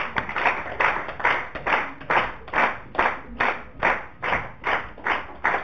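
An audience at a televised student quiz competition claps in steady unison, sharp claps about twice a second, close and fairly loud, with no voices.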